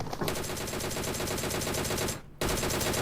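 Rapid automatic M4 rifle fire in a video game, a continuous stream of shots that briefly cuts out near the end before resuming, loud and close with no talk over it.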